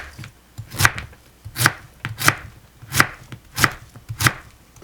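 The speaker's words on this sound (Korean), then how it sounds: "무 3분의 1개를 채 썰어 준비합니다." A knife julienning radish chops steadily on a cutting board, six crisp even strokes about once every two thirds of a second, close and with no talking.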